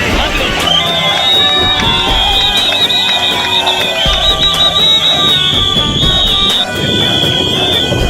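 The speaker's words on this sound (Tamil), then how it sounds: "கைத்தட்டி கொண்டாடிய ஊழியர்கள்." Workers cheer loudly with sharp whistles over a dense, steady crowd roar while a giant pipe is floated back into the sea at the Nemmeli seawater desalination project on the ECR near Mamallapuram.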